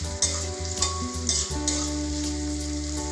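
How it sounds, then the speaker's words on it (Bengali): Capsicum and other vegetables stir-fried in a pan for veg chow mein, a steady close sizzle with repeated scraping stirs of a spatula throughout, no talking. "ভালোভাবে ফ্রাই করে নেব।"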